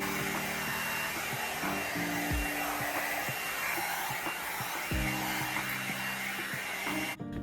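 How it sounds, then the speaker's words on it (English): Hair dryer with a diffuser attachment on the cool setting blowing continuously, a loud, steady close-up whoosh with faint bumps of handling, ending with a brief click. "I'm going to go in with my diffuser on cool and just kind of hit these"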